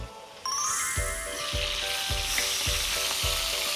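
Chicken pieces sizzle skin-side down in a frying pan over medium heat with rosemary, a steady close crackle that starts abruptly and swells, with several soft knocks of the pan or tongs repeating about every half second.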